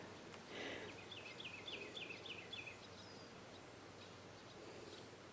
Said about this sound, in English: I love hearing the birds happy, tweeting.